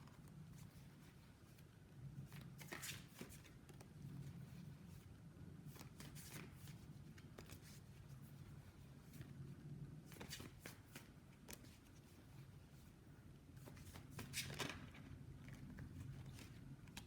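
Tarot cards being shuffled for a pick-a-card reading, a steady run of papery riffling and sliding with sharper snaps every few seconds, close and continuous with no talking.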